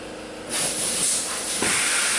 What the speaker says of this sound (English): he's going right with the spray. We decided not to wash it off, so we're just going to start putting the Krown on it.